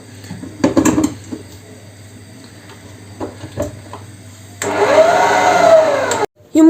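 An electric mixer whips egg whites with a pinch of salt toward meringue, starting with clinks of bowl and utensils before a steady loud whirring hum takes over, then cuts out abruptly near the end.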